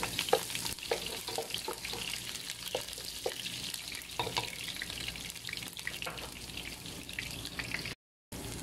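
Onions sizzle in a pan of oil while pancit canton is being cooked. A steady hiss of frying is broken by light clinks and scrapes of stirring, heard close up with no talking.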